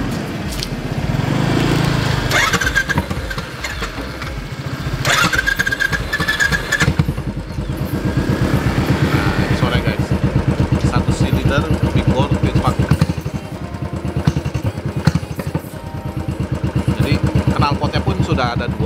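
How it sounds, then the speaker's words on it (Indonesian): A Royal Enfield Bullet Classic 500 fuel-injected motorcycle starts up and settles into a steady, thumping single-cylinder idle, close and loud, while someone talks over it. "Nah, saat dia udah diam cek, baru kamu starter."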